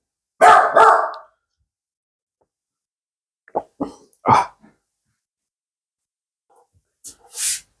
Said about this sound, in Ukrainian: у мене собака вміє гавкати, оказується